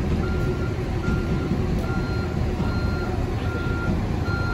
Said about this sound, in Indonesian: Ya kayak gini lah suasana rest areanya.